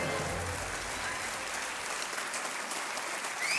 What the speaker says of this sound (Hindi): तालियां बजती रहे देवियों और सज्जनों